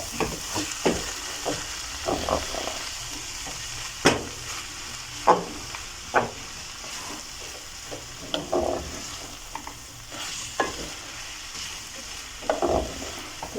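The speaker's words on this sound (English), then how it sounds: "Just a teaspoon of it. And then stir well." Minced beef stew fries in a pan while a utensil stirs it, with sharp scraping knocks at irregular intervals over a soft continuous sizzle, close up and with no speech.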